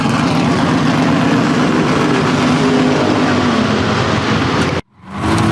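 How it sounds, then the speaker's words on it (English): A Pontiac LeMans with a 455 engine runs loud and steady with a deep, rough roar, held without a break before cutting off abruptly near the end. "This engine's really impressive."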